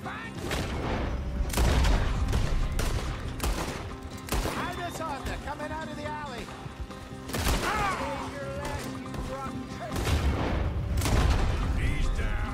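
Gunfire in a Red Dead Redemption 2 shootout: scattered loud shots and booming volleys at irregular intervals, mixed with clatter, shouting voices and game noise.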